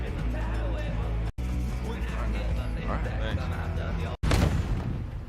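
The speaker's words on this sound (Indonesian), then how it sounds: "bom itu meledak tepat di mulut korbannya" A bomb hidden in a Boston cream donut detonates in a film scene, a sharp loud blast near the end with a burst of broadband rumble, following dense dramatic score and effects with brief cuts to silence.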